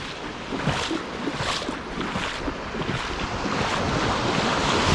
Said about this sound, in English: As you can see, the waves are tiny.